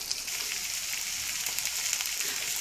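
Onions fry in melted butter in a pan for spaghetti sauce, giving a soft, even sizzle with faint crackles throughout, heard close but fairly quiet.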